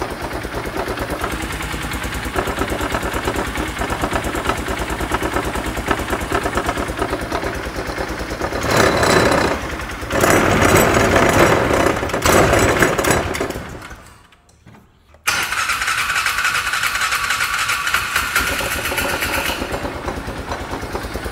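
A side-by-side UTV engine that has had many problems runs loud and close, rising briefly, cutting out for a moment and then catching again to settle into a steady idle.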